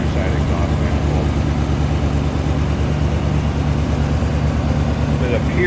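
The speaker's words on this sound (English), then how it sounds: "you hear just a little bit of that tick out of the passenger side exhaust manifold" A 1974 Mercedes-Benz 450 SL's engine idles steadily and loudly up close, a faint rhythmic tick from the passenger-side exhaust manifold riding on the low rumble, with a voice talking over it.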